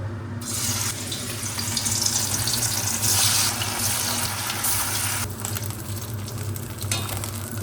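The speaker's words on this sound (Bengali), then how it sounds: "এবার ভেটকি মাছের ফ্রাইগুলো করা হবে ফ্রাই বলতে ভেটকি মাছ ভাজাই হবে ম্যারিনেট করে রেখেছে ওইগুলোই একটু ভেজে নেব" Marinated bhetki fish frying in hot oil, a dense continuous hiss and crackle that swells loud in the middle then eases slightly, heard without any talking.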